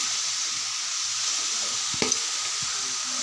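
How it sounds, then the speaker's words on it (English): Cooked rice tossed and stir-fried with vegetables in a hot pan for fried rice, a steady broad sizzle with one sharp scrape or clatter of the spatula midway. "So now I am adding rice to it."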